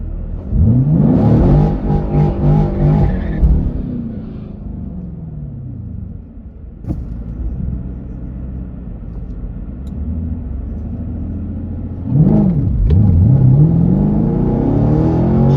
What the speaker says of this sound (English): Just waiting for the signal to do the burnout.